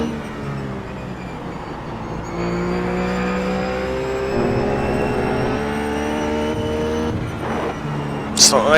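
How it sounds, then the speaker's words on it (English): A Ruf GT3 race car in iRacing at Lime Rock, its engine droning steadily at high revs and bouncing off the rev limiter, with a brief sharp crackle near the end and a voice talking over it. "Just don't like it hitting the rev limiter there."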